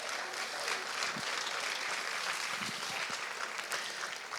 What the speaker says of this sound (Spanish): denle ese fuerte aplauso al Señor